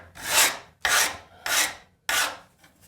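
A steel scraper blade is filed to flatten a high corner. Four long, even rasping strokes come close and loud, separated by short pauses.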